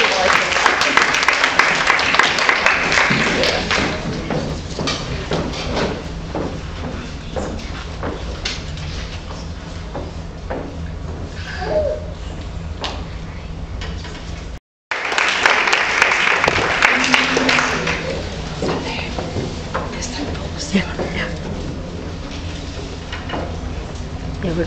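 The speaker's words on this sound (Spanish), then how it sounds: "Un fuerte aplauso" Audience applause after a duet performance is loud at first, then steady and gradually thinning. After a short break it swells again and carries on, with a few voices mixed in.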